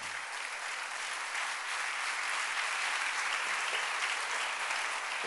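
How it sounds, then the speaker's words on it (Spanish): Dense, continuous applause from a church congregation at an evangelical worship service, a loud steady wash of many hands clapping together with no speech over it. "denle un aplauso al rey"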